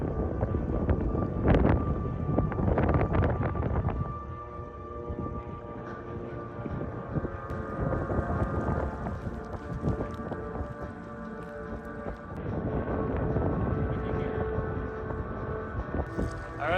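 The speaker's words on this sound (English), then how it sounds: "Our plane's just landing to pick us up." A floatplane lands to pick up a party of hunters at the end of an Alaskan coastal brown bear hunt, its engine a steady droning rumble mixed with wind buffeting the microphone and surging louder at the start and near the end.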